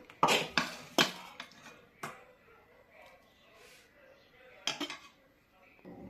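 A spoon scrapes and clanks against a pan and dish while matar paneer is served, a few sharp metallic knocks in a cluster, then scattered lighter clinks with quiet gaps.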